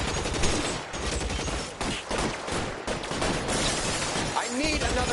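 Gunfire in the L.A. Noire video game: dense, sustained volleys of shots crackle through a noisy firefight, loud and continuous, with shouting voices mixed in.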